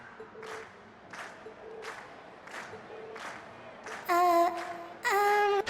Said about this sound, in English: we've heard your cheers loud and clear